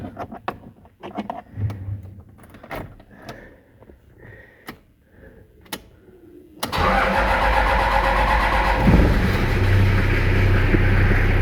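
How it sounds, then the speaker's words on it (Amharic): Car engine cranking and catching after three months standing, then running loud and steady as it warms up; quieter scattered knocks and rustles come before the start. "ሞተር እናሞቃለን አሁን።"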